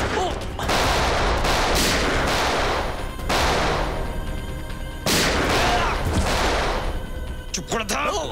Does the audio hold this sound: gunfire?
yes